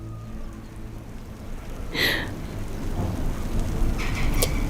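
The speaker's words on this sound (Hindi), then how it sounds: "लगता है बारिश होने वाली है।" Rain falls steadily as a sharp crack of thunder breaks out about halfway through, followed by a continuing rumble and a fainter second flash of noise near the end, with no voices.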